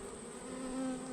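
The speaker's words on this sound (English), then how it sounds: "A lot of bees in here." Honey bees from a newly installed swarm hum steadily inside the hive, a close, continuous drone with a faint higher whine layered above it, holding level throughout with no talking.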